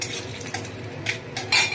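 Bay leaves and whole garam masala spices tempering in hot oil in a pan for chicken biryani, with crackling sizzle and a few sharp metallic clinks of a utensil against the pot, close and lively, with no voices.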